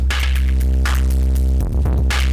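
Rough crunch distortion setting on an Elektron Analog Heat processing a synth line: a loud, continuous gritty buzz over a droning low bass hum, with bright noisy bursts swelling in and out in a pulsing rhythm, no voices.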